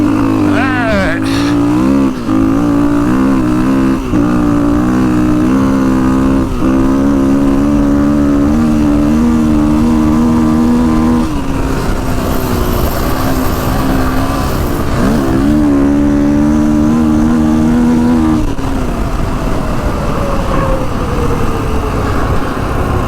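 Kawasaki KX450X dirt bike engine revving close by, a loud steady motor drone with repeated rises and falls in pitch, while a person talks over it.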